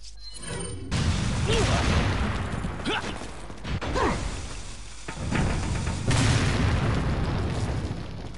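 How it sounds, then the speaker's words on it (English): Explosive blasts and heavy booms come from a grenade in Resident Evil 4, several deep bursts over about eight seconds mixed with crashing game noise. The sound is loud and close, with no voice over it. "So I think I should be throwing a grenade in there real fast."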